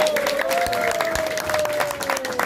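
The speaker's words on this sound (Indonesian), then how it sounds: "Tepuk tangan ke Pak Lurah" A group of farmers at an integrated-farming study visit claps for the village head, brisk uneven applause with a steady whistling tone running beneath it.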